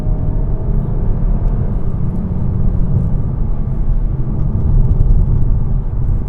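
A Skoda Superb 2.0 TSI AWD accelerates hard, its engine a smooth, steady low rumble heard from inside the cabin, building gently without strain over several seconds.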